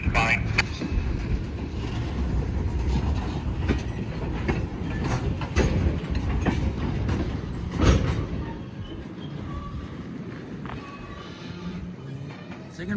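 A Hamilton Northwestern Railroad freight train switching a long cut of tank cars rumbles and clanks steadily nearby, with a louder knock partway through, while a person talks over it.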